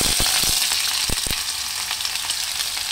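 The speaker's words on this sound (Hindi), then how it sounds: "मैं इसमें ये प्याज डाल दूंगी," Steady, loud sizzling of onions frying in hot oil, with a few sharp crackles and pops near the start.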